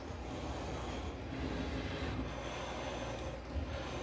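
A Cricut machine cutting 100-pound cardstock makes a steady, faint mechanical rasp and whir that runs without a break and has no talk over it.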